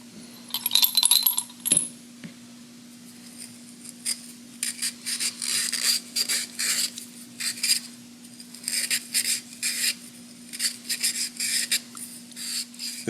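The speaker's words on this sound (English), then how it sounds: "all we need to do with this is just a little bit of Scotch-Brite" Metal part on a Craftsman 22-inch front-drive mower with a Briggs Platinum engine being scrubbed with a Scotch-Brite pad, giving bursts of close, dry rasping strokes in an uneven rhythm over a steady low hum.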